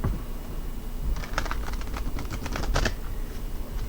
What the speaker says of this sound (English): let's go ahead and shuffle up these cards a little bit.